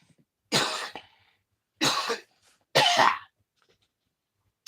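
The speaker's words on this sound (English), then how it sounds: "Sorry, that cough is getting to me again" Three harsh, separate coughs from one person break a near-silent room, each about half a second long and spaced about a second apart.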